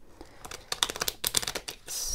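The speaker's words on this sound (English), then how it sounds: "I am not a good shuffler." Playing cards are shuffled by hand in a quick flurry of crisp riffling snaps and clicks, close and fairly quiet, ending in a soft ruffle.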